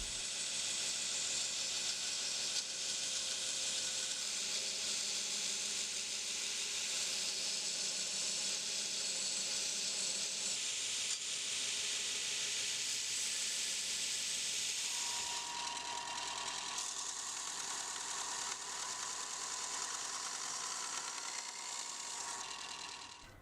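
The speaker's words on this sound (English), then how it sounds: "remove the excess material on the 2x72 grinder" A 2x72 belt grinder removes excess material from knife scales for a gyuto with orange G10 liners, a steady, loud hissing whir that runs unbroken and shifts to a lower, rougher tone partway through.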